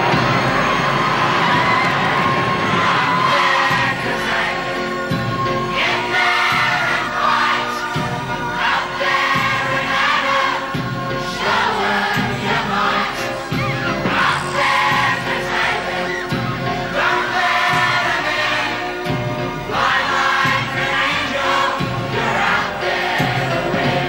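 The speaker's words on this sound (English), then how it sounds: "So I think they deserve a cheer from all of us." A television studio audience cheers and shouts for the St Kilda football team in loud, sustained waves, with whoops and children's voices rising and falling throughout.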